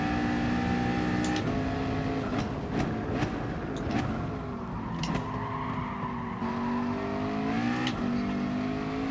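A race car in Gran Turismo Sport laps a circuit with a steady high engine whine that rises and falls through gear changes, with tire squeals scattered throughout.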